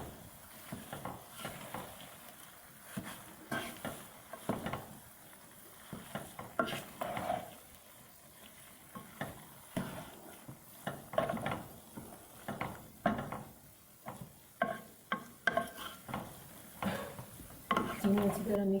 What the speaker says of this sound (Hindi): चीनी डाल के अच्छी तरह मिक्स कर लेंगे।